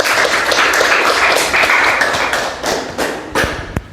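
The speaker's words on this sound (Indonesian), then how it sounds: "Tepuk tangan." A group applauds after a classroom group presentation, dense clapping close by that starts strong and thins out into a few scattered claps over four seconds.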